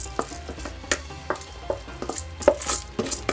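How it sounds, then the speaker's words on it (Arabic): Soaked, washed rice being stirred into a pot of red beans with meat, with repeated scraping and clattering of a utensil against the pot in an uneven rhythm, close and fairly loud, with no talking. "وابدي اقلب هاي الطبخه مالتي بهذا الشكل مثل ما تشوفون"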